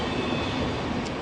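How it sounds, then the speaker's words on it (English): A Swiss train running from Karlsruhe to Hamburg rumbles steadily through Köln Hbf station, a continuous close rolling roar of wheels and carriages. "So it's a Swiss train, but it's not going to or coming from Switzerland."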